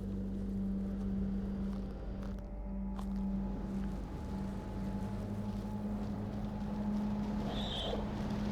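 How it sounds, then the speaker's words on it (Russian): Wind blows steadily in the VR game Paper Beast, a continuous low rushing hum with a sustained tonal drone underneath, moderately loud and unbroken throughout. "Опять ветер проклятый."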